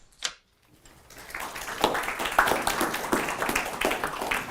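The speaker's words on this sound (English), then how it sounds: "I've never had anybody clap before I spoke, so thank you" Audience applause at a senior living options event, a brief clap or two then a steady patter of many hands clapping together, moderately loud and continuing to the end.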